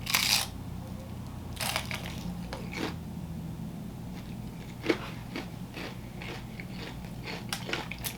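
Close, crisp crunches of teeth biting into a fried onion ring: a sharp first bite, then a run of crackly chewing snaps over a low steady background hum.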